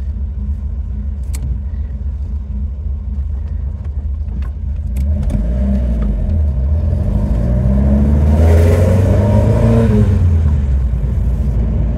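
A Mk.2 Ford Escort RS2000 engine idles with a steady low rumble, then revs and pulls away as the car drives off, the engine note rising and swelling loudly before easing back, with no voices.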